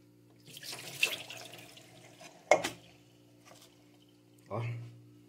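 Tap water runs over plums being rinsed in a kitchen sink, in short splashing bursts separated by quieter gaps, with a voice talking in the background.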